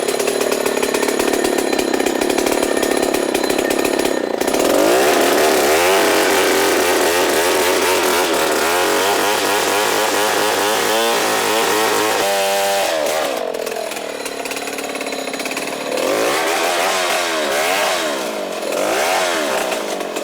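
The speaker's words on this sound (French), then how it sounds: "il va mettre la scie maintenant dans le bois pour commencer à la battre" Chainsaw revving and biting into a tree trunk during forest clearing in Africa, loud and close, with engine pitch rising and falling through the cut and brief throttle drops.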